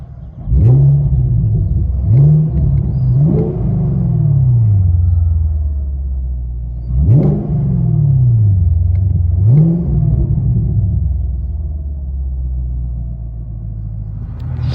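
A 2017 Chevy Camaro SS with its 6.2L V8 and Flowmaster FlowFX dual exhaust revs from inside the car, several sharp throttle blips rising and falling over a steady low rumble, loud and close with no talking.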